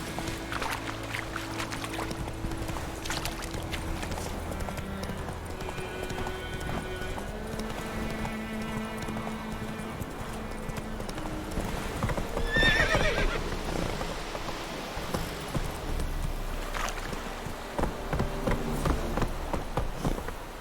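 Roach, the horse in The Witcher 3, clip-clops at a rhythmic gallop with a whinny partway through, all set against a game soundtrack and ambient rain-like wash.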